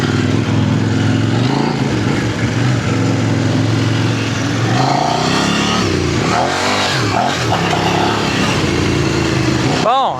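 Kove 800 adventure motorcycle engine on a group trail ride, a loud steady engine drone with revving surges toward the end, while riders talk over it.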